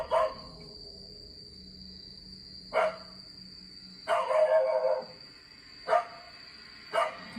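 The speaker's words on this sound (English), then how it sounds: "The dog aggressively growls and barks at something Yama can't see" A dog barks in short, separated bursts, a few single barks and one longer run, fairly close, over a steady high-pitched hum.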